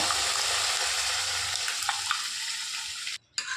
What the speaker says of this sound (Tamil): இப்போ பருப்பு சேர்த்துட்டு நல்லா கலந்து விட்டுக்கோங்க